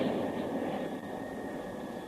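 A steady, droning cargo jet engine hum made as a sound effect for a science-fiction radio drama, continuous and moderately loud with a faint high whine, with no voices.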